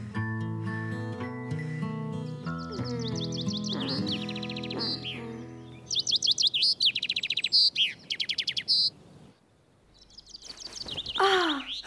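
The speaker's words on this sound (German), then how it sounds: "Der kleine Vogel singt aber schön." Cartoon birdsong from a small bird: a run of bright, rapid chirps and trills over gentle music, ending in a few louder sweeping tweets after a brief pause.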